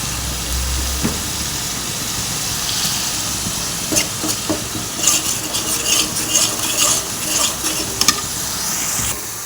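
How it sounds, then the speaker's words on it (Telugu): Biryani curry base frying in a pan with ginger-garlic paste, a constant close sizzle broken by repeated scraping and stirring clatters of a utensil against the pan, growing busier toward the end. "ఇదైతే పచ్చివాసన పోయే వరకు వేయించుకొని దీనిలోనే కొంచెం అల్లం వెల్లుల్లి పేస్ట్ అయితే వేయాలి."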